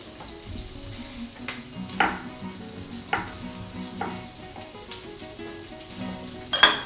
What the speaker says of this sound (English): While this thing is frying a little bit in a slow heat